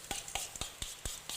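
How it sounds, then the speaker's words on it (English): Beef with garlic, ginger and marinade stir-fried in a hot pan: a quiet background sizzle broken by six regular, sharp scraping clacks of a utensil stirring against the pan, evenly spaced about a quarter second apart. "Now I'm stir frying"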